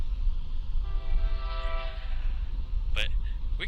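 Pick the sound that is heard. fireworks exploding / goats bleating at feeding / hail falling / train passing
train passing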